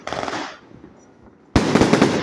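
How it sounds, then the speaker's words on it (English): Fourth of July fireworks burst outdoors at an Independence Day party, a soft crackle fading before a sudden loud, sustained volley of bangs and crackling erupts close by. "I need to see the fireworks."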